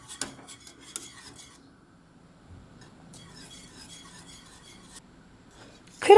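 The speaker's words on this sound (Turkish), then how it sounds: "Kaynayana kadar karıştıracağım." Cream being stirred in a pot on the stove until it boils, a steady scraping and rubbing of utensil against the pan in repeated strokes, fairly close and quiet, with a louder clatter at the very end.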